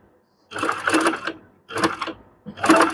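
Sewing machine stitching gathers on a small child's three-quarter pants, running in three close, rattling bursts separated by short pauses.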